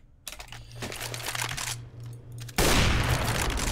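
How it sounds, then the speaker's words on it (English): Rifle fire shoots through a wall on the Inferno map in CS:GO. Rapid shots crackle over a low hum, followed by a louder, denser burst near the end. "But pretty much any wall like this, you can wallbang with a rifle."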